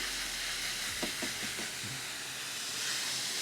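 A ribeye steak lands on a Ninja Woodfire outdoor grill beside cooking onions, giving a steady broadband sizzle and hiss with a few soft knocks as the meat goes down.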